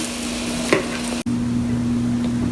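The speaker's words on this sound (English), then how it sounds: "you're going to go ahead and put it in the pan" French toast soaked in egg fries in a pan with a steady, soft sizzle throughout, broken by a brief clatter near the middle and a quick gap before the sizzling resumes; no one speaks.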